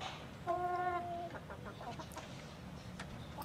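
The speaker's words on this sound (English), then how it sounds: "Don't hurt the chicken, please." A chicken clucks in the opening scene of a film, one clear harmonic squawk followed by softer scattered clucks and faint background sounds.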